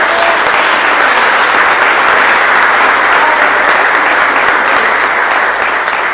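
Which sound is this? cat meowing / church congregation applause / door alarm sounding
church congregation applause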